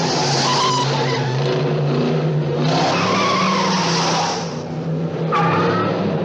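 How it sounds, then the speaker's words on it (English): A 1977 Trans Am at a pure stock drag race chirps its tires on the shift into second gear: loud, close engine roar with squealing, skidding tire noise that surges again near the end. "you just saw that car chirp second gear"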